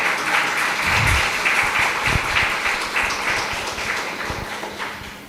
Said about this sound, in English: Another round of applause for someone as young as her.